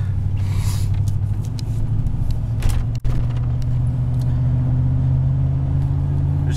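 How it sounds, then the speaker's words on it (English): A car engine holds a steady medium-throttle drone while driving, with low road rumble throughout and a brief dropout midway. "Just giving it a medium throttle."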